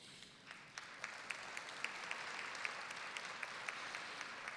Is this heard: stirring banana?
no